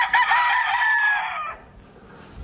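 A Claret White Boston Stag gamefowl crows once, loud and close, a long harmonic call lasting about a second and a half before fading into quiet.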